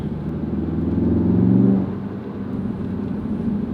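A Ford Focus RS engine drones steadily from inside the cabin while driving, the low tone swelling briefly as it pulls, then easing back to a quieter, even rumble.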